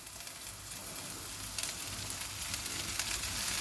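Lentils tipped into a pan of sizzling cooked ham, a steady, moderately loud frying hiss that runs throughout with small crackles and no voices.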